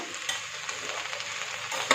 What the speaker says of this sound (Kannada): ಗೆಣಸನ್ನು ಹಾಕೊಂಡ ನಂತರ ಒಗ್ಗರಣೆ ಎಲ್ಲಾನು ಕೆಲಸ ಮಿಕ್ಸ್ ಮಾಡೋಣ